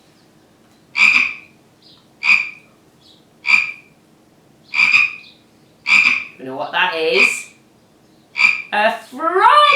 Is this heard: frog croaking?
yes